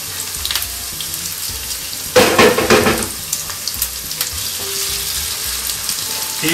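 Linguiça sausage sizzles in a pan with cubanelle peppers, green onions and yellow Spanish onion: a steady close frying hiss with a louder burst of crackle and stirring as the sausage goes in, then settling back to an even sizzle.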